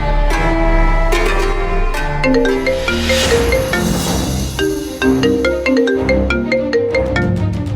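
A phone ringtone plays as a steady melodic tune, loud and close, repeating its notes for several seconds with no talk over it.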